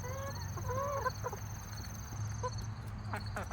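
Smoky Pearl hens and one old Leghorn cluck quietly nearby in short, scattered calls over a low background hum, with faint chirps rising throughout.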